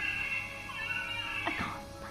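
A cat meows from inside a wall, a few muffled, drawn-out calls over a steady background hum, with no talking.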